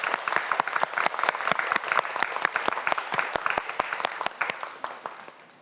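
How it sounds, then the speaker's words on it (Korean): A studio audience on a Korean science quiz show claps steadily, with dense sharp claps that build and hold over several seconds, joined by faint crowd murmur. "큰 박수 보내주시기 바랍니다."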